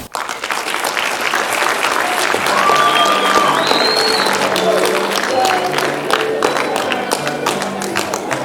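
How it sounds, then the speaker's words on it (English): A high school drama club's audience breaks into loud, sustained clapping mixed with crowd noise, with a few whistles or cheers and some voices underneath throughout. "Let's give them a round of applause."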